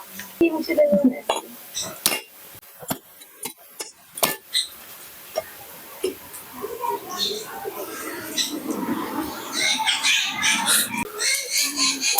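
A coconut being cracked open by hand in a village kitchen, several sharp, hard knocks and cracks close by in the first half, followed by scraping and rustling of husk and shell.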